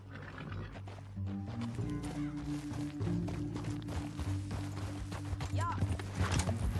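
Horse hooves galloping across rough canyon ground in the video game Red Dead Redemption 2, a fast rhythmic pounding under game music and effects, with a voice talking over it.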